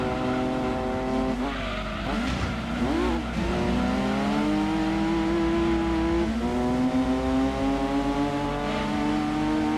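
Race cars in the video game Gran Turismo 2 during a historic car cup race, with a loud, continuous engine drone that rises and falls through gear changes, plus brief tire squeals.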